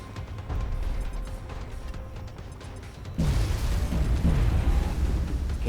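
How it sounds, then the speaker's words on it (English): Smoke grenades bursting in the turn-based strategy game XCOM: Long War, a muffled low pop followed by a dense, rolling hiss that swells louder and lingers. "Smoke grenades."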